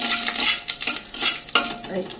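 Two split dried red chilies frying in mustard oil in a kadai, a close, loud crackling sizzle with bursts of spattering and a spatula scrape, no voices.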